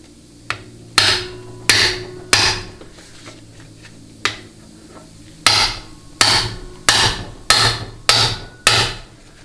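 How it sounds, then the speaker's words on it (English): Repeated metallic hammer strikes on a socket wrench while loosening a part on a Chrysler Jeep A904 transmission, sharp and close, in irregular bursts: a few spaced raps, a pause, then a steady run of blows. "I'm just going to twist counterclockwise as I'm rapping on it with the hammer"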